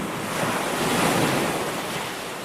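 Large ocean waves surge and crash in a steady, roaring wash, with wind buffeting the microphone throughout.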